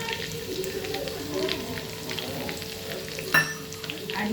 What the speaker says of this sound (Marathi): तेल आपली छानपैकी गरम झालेलं आहे. मी आता घालणार आहे लसूण.